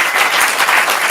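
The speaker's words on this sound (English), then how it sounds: "Give yourselves a round of applause." A stand-up comedy crowd breaks into loud, dense applause, a continuous wash of clapping filling the room from start to finish.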